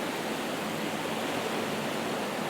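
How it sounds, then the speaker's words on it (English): A local river rushes turbulently downstream beneath a small wooden footbridge, a steady, dense hiss of flowing water with no pauses. "I'm looking at the water flowing downstream"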